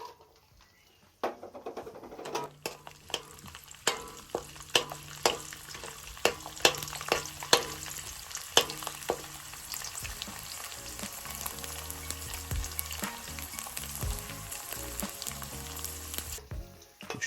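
Garlic hits hot spiced curry oil with a sudden loud sizzle, then crackles and spits steadily with sharp pops and occasional stirring clinks, close and alone.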